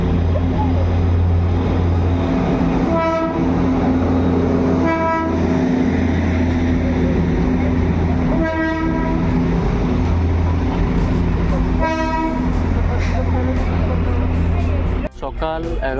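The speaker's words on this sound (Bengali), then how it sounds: "এই দেখো দার্জিলিংয়ের ফেমাস টয় ট্রেন।" Darjeeling's toy train rumbles past with a steady low drone, sounding repeated short horn toots, loud and close, ending in a sharp clunk.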